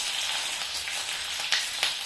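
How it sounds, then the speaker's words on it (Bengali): Onions fry in hot mustard oil in a pan, a close, dense, bright sizzle running continuously with a couple of louder crackling bursts near the end, and no voices. "আমি একটু পেঁয়াজ ভেজে দিচ্ছি"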